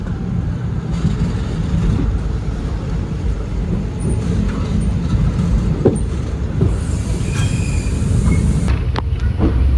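Passenger train running from Erode towards Mettur Dam, heard from on board: a steady loud rumble of wheels and carriage noise throughout, with occasional clanks and a brief high squeal near the end, without talking.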